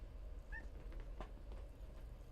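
A pet cat makes a brief faint meow indoors, low and thin over a steady background hum, with a couple of soft rustling movements nearby.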